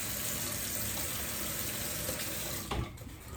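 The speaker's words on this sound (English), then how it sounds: "Should have wet my face first." A bathroom tap runs in a loud, steady, close rush of water, shifting near the end as hands move under the stream.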